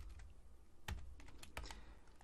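Quiet computer keyboard typing during a coding session: a short run of soft, irregular key clicks with a couple of firmer taps, close and alone.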